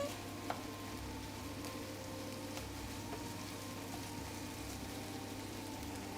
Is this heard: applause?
no